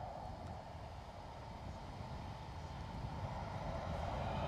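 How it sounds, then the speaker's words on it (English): A Belfast-bound jet begins its takeoff roll at Edinburgh Airport, a steady distant engine roar that slowly builds in loudness over a few seconds, with no voices. "Right, Belfast departure rolling."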